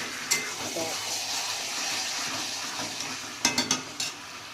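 Food frying in a pan for a light home-style curry, a steady broad sizzle running throughout with a few sharp clinks and scrapes of a utensil against the pan near the end.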